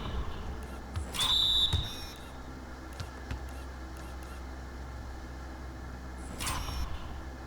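A referee's whistle sounds in an NBA 2K25 basketball game, a short shrill blast about one second long over crowd noise and arena ambience, with a fainter burst later.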